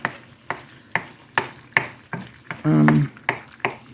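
Ground beef hamburger patties frying in a pan, with rhythmic close scraping and tapping of a spatula about twice a second over a faint sizzle, plus a brief buzzing tone midway.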